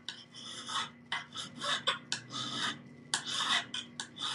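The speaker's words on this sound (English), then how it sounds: "Just so we can kind of see the filing." Hand file rasping across a small metal piece being prepared for enameling, steady back-and-forth strokes close up with short pauses between bursts, no voices.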